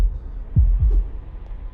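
A single double thump of the player's heartbeat in a tense first-person video game, two deep muffled beats close together over a low hum, near and soft, with no voices.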